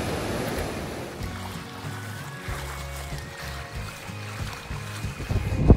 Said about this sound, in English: here is the Doubtful River. It's pretty fast, but I'm about to cross it.